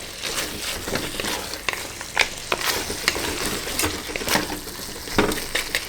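Keema with potato and green peas is stirred in a sizzling pan, with repeated spoon scrapes and clicks over a steady frying crackle, close and fairly loud, and no speech.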